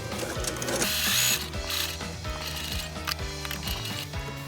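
Sewing machine stitching a zipper onto a bag made from a Nagoya obi, running in a steady mechanical rhythm with a humming motor and repeated needle clatter, close and alone with no voices.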